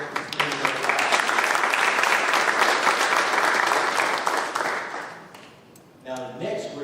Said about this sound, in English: give them a good round of applause and thank them for streaming us live